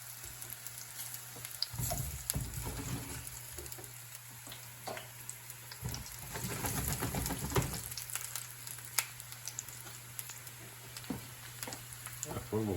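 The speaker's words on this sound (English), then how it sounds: "I'm going to go ahead and just fry the caps in there for a couple of minutes." Mushroom caps fry in hot oil as stuffed-mushroom appetizers are made, giving a steady crackling sizzle with bursts of louder spattering throughout, under occasional talk.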